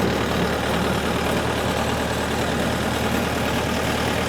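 Scout TE 504 C tractor engine running steadily at close range, a continuous low mechanical drone with no breaks, heard alone without talk, beside a small pumpkin garden during harvest work.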